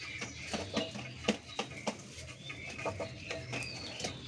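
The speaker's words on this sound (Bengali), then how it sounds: "নর পায়রা যদি বেশি না ডাকে তাহলে মাদি ইমপ্রেস হয় না" A male pigeon coos softly in its coop in the morning, a faint series of repeated low pulsing calls at an even rhythm with quiet rustling between them.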